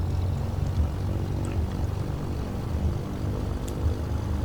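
Twin engines of a Milviz Cessna 310R in Microsoft Flight Simulator run up toward 1700 RPM, giving a steady, low, even propeller drone with no voices.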